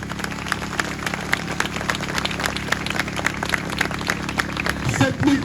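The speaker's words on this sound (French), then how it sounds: "Je pense qu'on peut les applaudir." A crowd applauds petition signers at a French gathering, steady clapping over a low background hum that swells slightly near the end, where voices start to come through.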